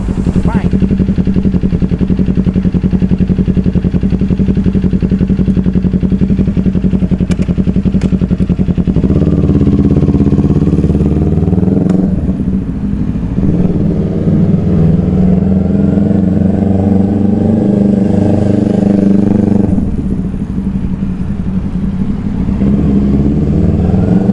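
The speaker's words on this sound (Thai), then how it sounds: "ก็โดยประมาณครับผมสำหรับเจ้าคาวาสกินินจา 400 SE ครับปี 2018 คันนี้นะครับ" A 2018 Kawasaki Ninja 400 SE motorcycle being ridden, its engine droning loudly and continuously with shifts in revs partway through, under steady wind and road noise.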